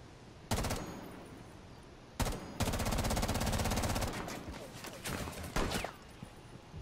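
Bursts of gunfire in a Rainbow Six Siege ranked match, with a pistol in use, firing in dense rapid volleys that come in several loud clusters, with voices talking over the shooting.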